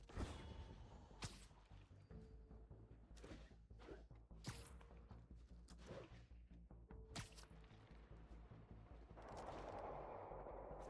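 Gunfire bursts out in a Spider-Man video game: sharp, scattered shots and impacts, some in rapid runs, followed by a rushing swell near the end, heard fairly quietly with no talk.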